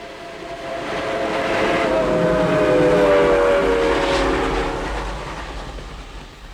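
A steam locomotive, Reading Blue Mountain and Northern Railroad No. 425, roars steadily under load climbing a grade, a continuous heavy rumble with a faint whistle tone running through it, swelling and then fading slightly.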